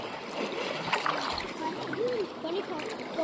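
Clear spring water welling up strongly from underground, a continuous splashing and bubbling rush close by, with voices talking over it.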